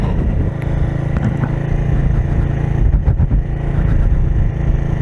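A Kuba Çita 180 R motorcycle ridden off-road, its engine droning loud and steady with close, rough low rumble and slight throttle variation throughout, no talk.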